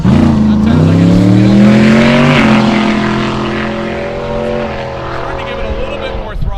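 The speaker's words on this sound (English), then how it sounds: "starting to give it a little bit more throttle now" Drag racing car at Great Lakes Dragaway accelerating hard on a pass, its engine note climbing then leveling as throttle rises, loud and close, with a commentator talking over it throughout.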